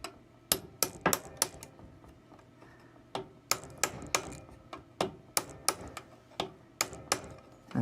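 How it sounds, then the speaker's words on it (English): A small hammer tapping the opposite corners of a square pump piston during a wet-end pump rebuild, sharp close metallic taps in quick irregular bursts with short pauses between groups, no talk. "I'm just tapping the sides of that, or the corners, opposite corners of that square, because I don't want it to bind up."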